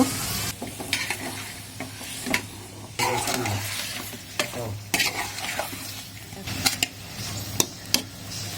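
Drumstick pieces stirred into a tomato and lentil curry: repeated spatula scrapes and knocks against the pot over a continuous sizzle, close and fairly loud, in irregular strokes.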